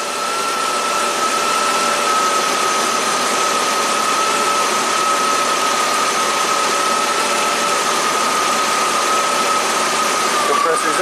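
A 1991 Audi 200 Quattro idles steadily with its A/C compressor engaged, a constant close engine drone and a thin steady whine running unbroken throughout.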